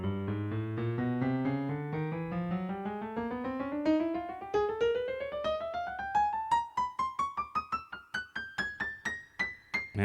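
A Yamaha PSR-E473 electronic keyboard played key by key in a steady rising scale, starting smooth and legato and turning into quicker, separated notes toward the top.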